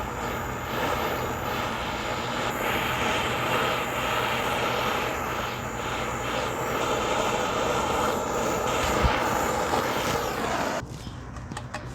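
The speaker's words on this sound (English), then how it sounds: "So we got the flame going. As we put this to the header, we're going to put this right on the header and just start warming it up." A torch flame roars in a constant, loud, hissing rush while heating a Pontiac GTO exhaust header, holding steady for most of the span before cutting out abruptly near the end, leaving quieter room noise.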